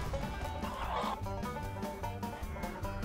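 Chicken clucking in the video game Neverwinter, soft and low in level, set inside game music with a faint voice and quiet game effects around it.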